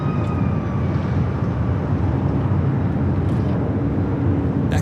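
Southwest Airlines Boeing 737-700 jet at Los Angeles LAX airport during takeoff, a loud continuous low engine roar with broad rushing noise holding steady throughout.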